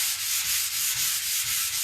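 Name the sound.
sanding painted steel with buffer pad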